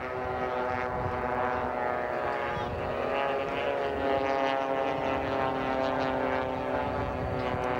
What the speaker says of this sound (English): Ken Knowles in 91, the Race Pro Engineering aircraft.